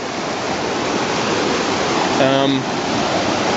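A stream pours through an inlet beside a cabin after a flood, giving a steady, loud broadband rush of water throughout, with a brief tonal chirp partway through.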